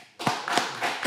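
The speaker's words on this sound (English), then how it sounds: "Clap it up for that." A few sharp claps in quick succession, close and fairly faint, lasting about a second.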